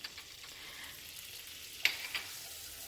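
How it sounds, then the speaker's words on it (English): All-purpose flour is sprinkled into hot oil in a pan to start a roux, producing a soft, steady sizzle with a couple of brief sharp crackles partway through. "so I'm gonna sprinkle in my all-purpose flour"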